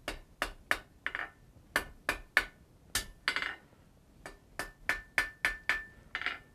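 Hot steel for a forge-welding scarf is hammered on an anvil in quick, sharp, ringing blows, delivered in short irregular groups with brief pauses, close and alone.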